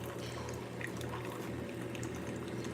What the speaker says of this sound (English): What you're hearing right now is my dad making coffee.